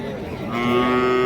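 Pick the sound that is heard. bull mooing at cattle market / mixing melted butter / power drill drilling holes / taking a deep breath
bull mooing at cattle market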